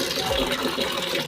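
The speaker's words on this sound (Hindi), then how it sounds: "बाल्टी में ना पानी झोंक लेता हूँ" Water is poured into a bucket at a village home, a short, loud, continuous gushing splash heard up close.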